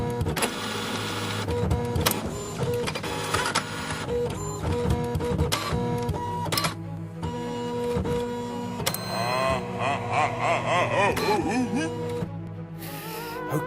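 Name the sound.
haunted printer sound effect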